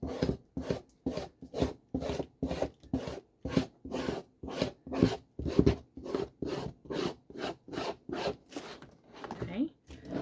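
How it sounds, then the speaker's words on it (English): A steady run of quick, rhythmic scraping strokes, close and fairly loud, as rhinestones are scraped off a template sheet, with a pause near the end. "I'm gonna scrape it again."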